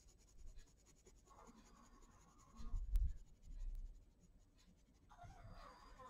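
Watercolour pencil scratching across paper while drawing a red apple, a soft, close, intermittent scribbling with a louder burst in the middle, the strokes coming in short uneven runs.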